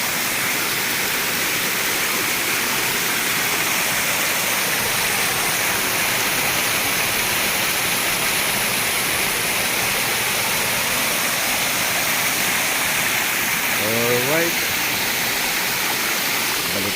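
Water rushes steadily and loudly into a mineral resort pool, a constant dense roar like a waterfall lasting throughout, with a brief faint voice-like sound near the end.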